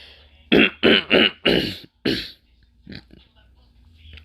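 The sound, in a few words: coughing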